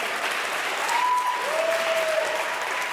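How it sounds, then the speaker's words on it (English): A room full of people applauds in a steady, dense wash of clapping that holds at an even level. A faint whistle or tone drifts briefly through the middle. "I'll wait for the applause"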